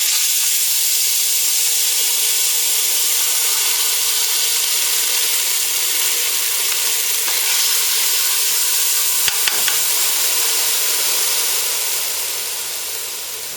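Sofrito hitting a hot pot for Dominican sancocho soup gives a loud, steady, close sizzle and hiss that continues unbroken, with no one talking.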